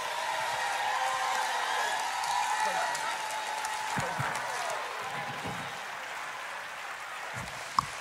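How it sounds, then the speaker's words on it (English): Sustained audience applause in a church service, a dense, even clapping wash lasting several seconds with crowd voices mixed in and a few louder claps near the end. "No, that's an applause."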